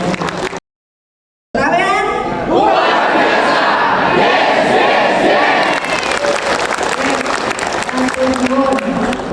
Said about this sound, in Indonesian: Tepuk tangan untuk panjenengan semua Bapak Ibu sekalian